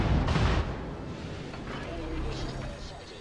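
Warship artillery fire in World of Warships: a heavy booming blast at the start, then rumbling distant gunfire and explosions that fade and swell, with players talking over it.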